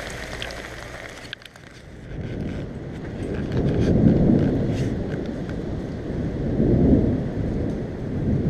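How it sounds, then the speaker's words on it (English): Thunderstorm rolling over on an evening in Belgium, with low rumbles of thunder swelling twice amid steady rain and wind buffeting the microphone, loud and close throughout. "Good old thunderstorm coming out of our evening meal."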